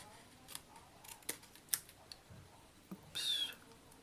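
Scissors cut paper for a book page pocket, a few quiet snips and one brief slicing stroke near the end, heard close up and fairly faint with no talk.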